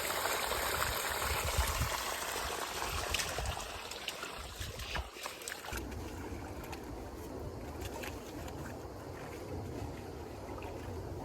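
Irrigation water flows and trickles into a cauliflower field, a faint continuous outdoor rush that grows thinner partway through, with no one speaking.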